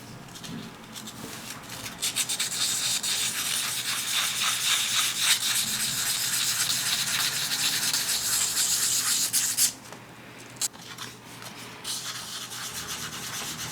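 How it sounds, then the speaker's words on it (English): Sandpaper rubs wet over a resin BJD garage kit part in quick, close back-and-forth strokes, a continuous gritty scrubbing that stops abruptly near the end before a few lighter passes resume. "You can wet sand and the dust won't go everywhere"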